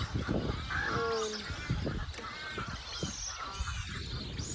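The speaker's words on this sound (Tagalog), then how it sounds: "Puro ibon ang ingay." A large flock of geese honking, overlapping calls close and loud at the start, then a continuing chorus of squawks and honks from many birds.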